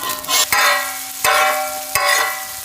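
Chopped onion frying in cold-pressed sesame oil with chopped garlic for noodles, a steady close sizzle with three sharp bursts as ingredients are tossed or stirred in, no voices.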